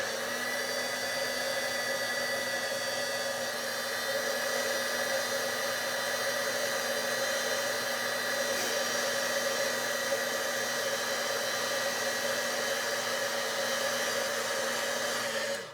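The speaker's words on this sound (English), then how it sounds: "And then I'm going to bring in my heat gun." A heat gun melts embossing powder, giving a steady, even blowing whine with a constant motor hum that runs unbroken from start to finish at close range.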